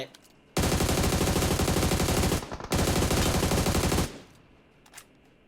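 Sustained automatic gunfire in the mobile battle royale game PUBG Mobile, two long dense bursts of rapid shots, loud and close, with a short gap between them and a few faint distant shots afterward.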